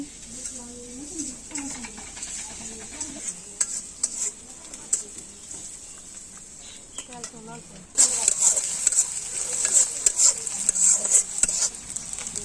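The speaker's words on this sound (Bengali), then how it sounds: "পেঁয়াজ হালকা ভাইজা নিচ্ছি এখন" Onions lightly frying in a pan in a village kitchen, a soft steady sizzle with occasional stirring scrapes, joined around the midpoint by a louder hiss; birds chirp in the background and someone talks over it.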